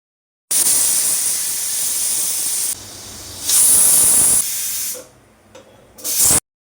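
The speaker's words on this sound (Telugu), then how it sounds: "ప్రెషర్ కుక్కర్పై మూత పెట్టేసి త్రీ టు ఫోర్ విజిల్స్ వచ్చేంత వరకు బాయిల్డ్ అవ్వనివ్వాలి" A pressure cooker whistles as dal boils inside: loud, steady steam hisses in bursts, stopping and restarting, with a brief quiet gap before a final sharp hiss.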